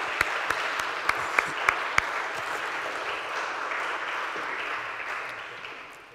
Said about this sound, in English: I think we can give some applause for ourselves and for everyone who helped.